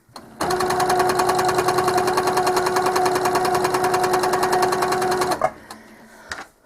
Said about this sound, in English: I always like to start with the bobbin thread on the top so I don't have to worry about stitching over it on the back of the quilt.